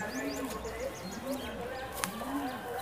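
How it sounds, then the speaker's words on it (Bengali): Large Giribaj and Madrasi high-flying pigeons in a loft give several low rolling coos in a steady rhythm, close by, under someone talking. "খুবই সুন্দর কবুতর দেখতে পাচ্ছেন একেবারে বিগ সাইজ"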